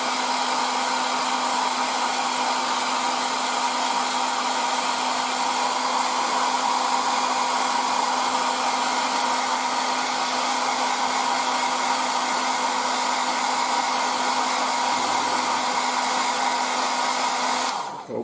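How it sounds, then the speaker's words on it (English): A hair dryer blows continuously at close range onto Tamiya acrylic paint, a steady whirring hum with airy hiss that holds unchanged before cutting off at the end. "with the Tamiya we can use our air dryer too"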